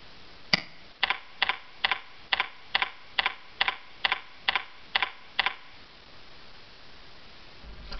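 A computer keyboard is tapped in a steady run of about a dozen crisp, evenly spaced keystrokes, close and clear, then goes quiet for the last few seconds.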